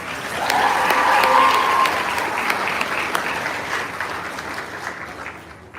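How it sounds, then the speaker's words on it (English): Audience clapping at a fashion show, swelling early then gradually thinning out over several seconds, with a voice briefly heard over the applause. "a huge shout out and round of applause for Silly George"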